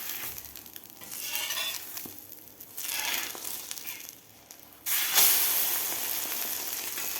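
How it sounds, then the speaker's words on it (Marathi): An egg omelette frying in a pan, a soft steady sizzle that swells and fades in waves, then jumps to a louder hiss near the end as it is flipped. "आता आपल्याला दोन्ही साईडकडून व्यवस्थित हे ऑमलेट चांगलं भाजून घ्यायचं आहे."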